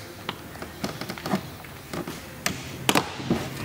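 Plastic trim clips pop loose one after another as a plastic trim tool pries the door panel off a 2020 Toyota A90 Supra, giving a handful of sharp, close snaps and taps with no talking.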